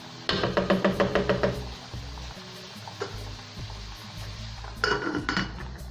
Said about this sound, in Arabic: ندير اللحم تاعي ونخليه يتقلى شويه مع البصل